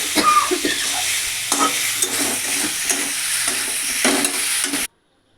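Boiled potatoes being stirred into a spicy dhokar dalna curry in a hot pan, with steady loud sizzling and frying and repeated scraping strokes of a spoon for about five seconds, then sudden silence.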